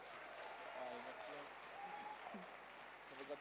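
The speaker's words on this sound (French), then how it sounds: "Merci de les applaudir encore une fois." A gala audience applauds the performers at a student show, a faint, distant spatter of clapping with crowd murmur and a voice talking over it.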